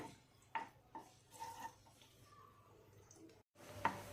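Chopped garlic being stirred in a pan for Bangladeshi olive pickle, with a few soft scrapes and clinks of the spoon spaced irregularly against a quiet background.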